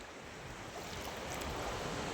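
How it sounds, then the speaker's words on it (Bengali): Big sea waves break and wash along a coast in Saudi Arabia, a steady, fairly faint roar of surf mixed with wind noise on the microphone, with no voices. "ঢেউ অনেক ভালো ভালো বড় বড় ঢেউ আসতেছে।"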